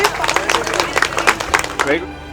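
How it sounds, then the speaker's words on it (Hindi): Wedding guests clap through a stretch of steady, dense applause, with an announcer's voice speaking over it throughout. "एक जोरदार तालियों के साथ आप समर्पित करेंगे"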